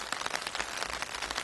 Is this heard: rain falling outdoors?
yes